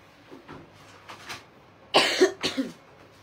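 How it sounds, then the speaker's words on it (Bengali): Two loud, close coughs in quick succession, preceded by quieter breathy throat sounds, with no other talk. "কাশি আর ভালো হবে না।"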